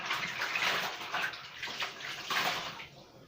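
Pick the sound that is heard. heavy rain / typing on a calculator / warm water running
warm water running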